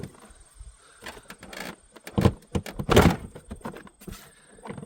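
A few hollow plastic thunks and pops as a 2006–2010 VW Jetta engine cover is pulled free of its rubber grommets, with light clicks and handling noise between them.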